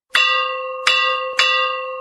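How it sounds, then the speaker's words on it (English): A school bell rings out in three loud, evenly spaced strikes, each with a bright metallic attack and a sustained tonal ring that decays slowly and overlaps the next strike, with no voices. "The scene ended when the school bell rang"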